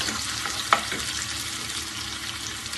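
Onions fry steadily in a pan with a constant close sizzle, and one sharp clack of a spoon against the pan is heard early on. No one speaks.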